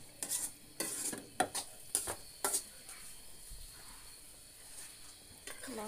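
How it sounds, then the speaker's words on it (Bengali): Chicken meat braising in a pan gives off a soft sizzle as a spatula stirs and scrapes in a quick run of clacks, then the sizzle carries on alone and fainter. "এই যে মাংস কষা হইতেছে।"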